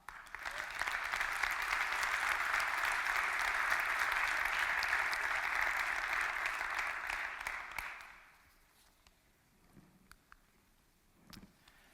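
A conference audience applauds the event staff in a large venue, sustained dense clapping for about eight seconds that then fades into a quiet room with a few stray sounds.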